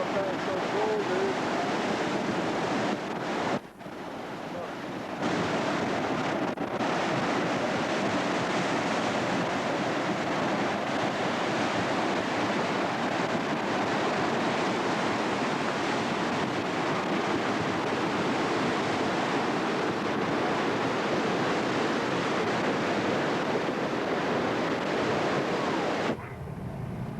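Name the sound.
Russian River flowing after an avalanche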